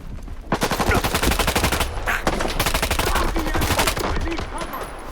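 Sustained automatic gunfire in STALKER 2, a loud, rapid, continuous rattle of shots after a short quiet start, with a brief break in the middle before the firing resumes.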